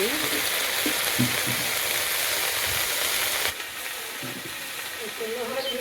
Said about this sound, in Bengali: লাল শাক ভাজি করবো লাল শাকটা দিয়ে দিলাম একটু লবণ দিয়ে